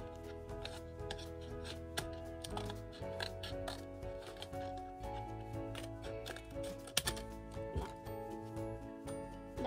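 Paper being cut with scissors during a papercraft squishy project, heard as a steady run of quiet, crisp snips and rustles close by with no talking.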